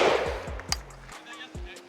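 AK12 rifle firing a quick string of about four sharp gunshots outdoors, each with a short echoing tail, then a final separate shot, with faint voices nearby.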